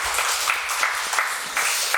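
A church congregation applauds the choir during a Sunday worship service, steady dense clapping filling the whole moment without speech.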